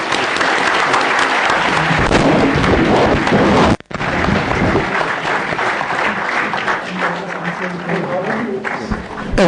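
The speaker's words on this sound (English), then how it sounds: "May I request all of you to join me in a thunderous applause." A large audience applauds loudly after a keynote address by UN Secretary-General Ban, a dense, continuous wash of clapping that breaks off briefly and then resumes for several seconds.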